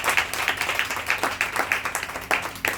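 A church congregation applauding, dense rapid clapping from many hands with rhythmic surges, fairly loud and close, with no one speaking over it.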